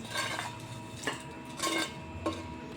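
Fried ivy gourd moved from a pan into a bowl: a few light metallic clinks and scrapes of utensils against cookware, close and quiet, spaced out over a couple of seconds with no speech.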